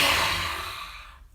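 A deep, audible breath during a goddess pose in a yoga class, a breathy rushing sound that starts strong and steadily fades over about a second, close and alone.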